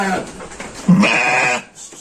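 Breeding ewes of Batur or merino type bleat in a farm pen, giving several loud, close, wavering calls that overlap one another, with quieter pen noise behind them.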